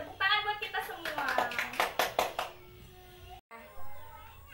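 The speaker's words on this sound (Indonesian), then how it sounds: "tepuk tangan buat kita semua" A classroom claps hands in a quick rhythmic burst of sharp, evenly spaced claps, mixed with voices speaking, then quiets down.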